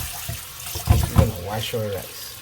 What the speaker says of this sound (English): Now what we're gonna do? We're gonna wash our rice.